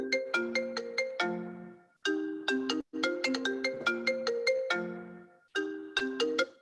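A mobile phone ringtone chimes out during a regional council meeting, a bright repeating melodic pattern of short bell-like notes in bursts with brief gaps, clear and fairly close.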